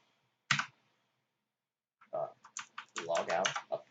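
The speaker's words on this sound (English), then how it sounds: "We're going to type in logout" Typing on a computer keyboard, a single key press followed by a quick run of clicks lasting about two seconds, close and clear, with a spoken voice alongside the keys.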